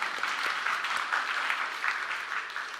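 A church congregation claps during a Taiwanese-language sermon, producing an even, moderately loud patter of many hands that holds steady for about three seconds without any voices over it.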